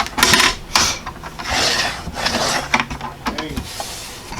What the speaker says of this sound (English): I'm just going to clean that track out a little bit, getting that excess debris out